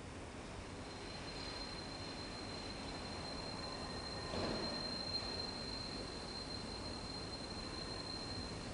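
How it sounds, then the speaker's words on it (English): Trains pass through a modern Swiss railway station on the Lötschberg line, with express and local services. A steady, rolling rumble is topped by a thin, high wheel squeal, with a swell midway as cars go by. "express and local trains come and go in a steady flow of traffic"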